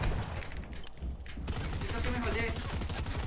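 Opponent gunfire in a competitive shooter video game, rapid bursts of shots in quick succession, fairly loud and close, mixed with game noise and people talking.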